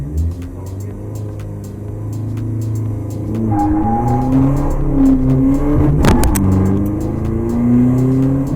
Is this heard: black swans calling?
no